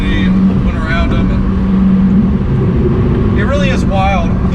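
Heard from the cabin, an Alfa Romeo 4C sports car is driven fast on a backroad, its engine a constant loud drone with someone talking over it.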